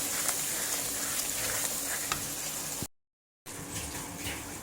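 Goat offal with garam masala fries in a pan, a steady close sizzle and crackle with faint stirring, cut off by a brief gap of silence before the sizzling resumes.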